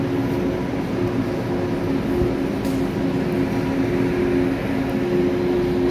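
Steady rumbling hum of the Disneyland monorail at the Downtown Disney stop, with a continuous low drone and faint mechanical whine filling the background throughout.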